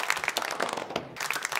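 A short burst of canned applause plays, a brief patter of many hands with a momentary dip in the middle, fairly faint and close with no talking over it.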